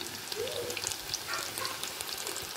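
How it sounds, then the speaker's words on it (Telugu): Pieces of food fry gently in oil on low-medium heat, giving a soft continuous crackle and bubbling at close range. "లో మీడియంలో అయితే గోల్డెన్ బ్రౌన్ కలర్ వచ్చేదాకా వేయించుకుందాం మనం"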